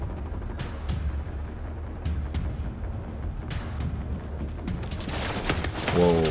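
Gunfire crackles in The Division 2, with scattered sharp shots at first and then a denser burst of light machine gun fire near the end, loud and close over steady background noise.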